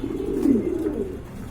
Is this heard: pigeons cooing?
yes